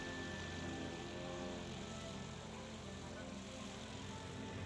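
An early propeller airplane flies with a steady, droning engine rumble that holds at an even level throughout, with no pauses.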